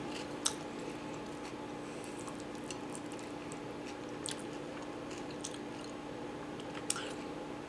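Someone chews a mouthful of funeral potato casserole, with soft wet squishing and small occasional clicks over a steady room hum, close and fairly quiet.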